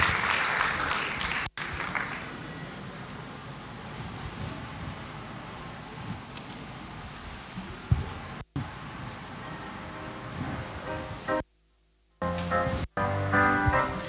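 An audience at a university induction ceremony for medical laboratory science inductees gives a sustained round of applause, dense clapping that runs for several seconds, fades and breaks off briefly, then resumes.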